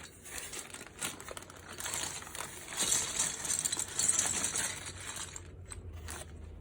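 Plastic packaging being handled while unboxing keyboard keycaps, close crinkling and light rattling clicks in irregular bursts, fairly quiet and without talk.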